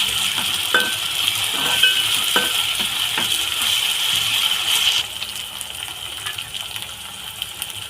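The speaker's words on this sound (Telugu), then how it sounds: "ఇప్పుడు కొంచెం అల్లం పేస్ట్ వేస్తున్నాను" Ginger paste sizzles steadily in hot oil in a pan for a mushroom capsicum curry, with scattered scraping clicks from a stirring utensil over the first few seconds, the fry then settling to a quieter, even hiss.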